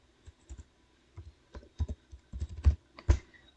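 Keys clatter on a computer keyboard as a file name is typed, a quiet run of irregular clicks that bunch into a faster burst and end with a few firmer taps, close by with no voices.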